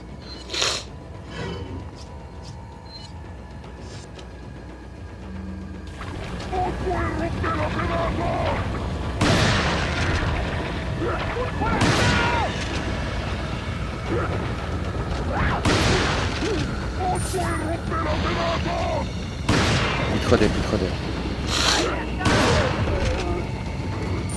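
Grenade thrown and exploding in Resident Evil 4, among a series of booming blasts and gunfire bursts loud in the mix, with voices talking over the game action.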